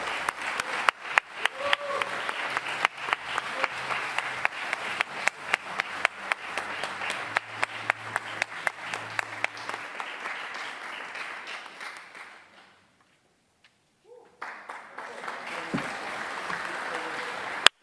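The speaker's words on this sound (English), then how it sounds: "Let's give them a round of applause while they make their way here." Sustained applause from a sizable audience, dense clapping that fades out briefly near the end before resuming.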